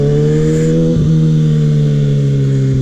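A 2016 Kawasaki ZX6R 636 motorcycle engine drones loud and close while riding, holding a steady high-pitched hum with a brief dip and recovery near the one-second mark.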